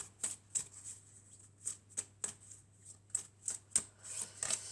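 Oracle cards being drawn and handled from a deck, a series of soft, crisp card flicks and slides at an irregular pace, close and quiet over a faint steady hum.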